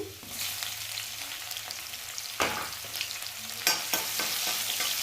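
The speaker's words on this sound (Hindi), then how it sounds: "और हरी मिर्ची को और लहसुन को हम फ्राई कर लेते हैं, यानी भून लेते हैं अच्छे से।" Green chilies and garlic frying in a pan for a stuffed bitter gourd and paneer dish, a steady close sizzle with occasional louder stirring scrapes and spatters, no voices.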